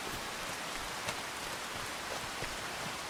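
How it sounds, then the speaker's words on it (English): Steady, soft rain falling in the video game Farming Simulator 25, with scattered drop ticks, a continuous hiss with no other sounds. "Still raining a little"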